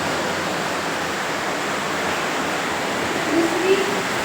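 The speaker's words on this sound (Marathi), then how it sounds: "गायत्री नदी." The Gayatri river at Mahabaleshwar flows as a steady, broad rush of water, continuous and fairly close, with a brief voice rising faintly near the end.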